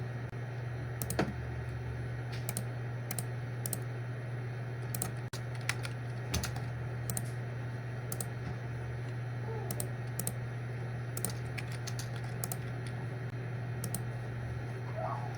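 Quick keyboard shortcuts typed on a computer keyboard while configuring inter-VLAN settings, light crisp key clicks scattered irregularly over a steady low electrical hum, close and fairly quiet.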